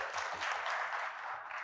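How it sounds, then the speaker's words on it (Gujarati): Audience at a Gujarati poetry gathering in Godhra applauding a poet: a dense, steady burst of many hands clapping, fairly even throughout, heard alone without speech. "જોરદાર તાળીઓ મહેન્દ્રભાઈ માટે."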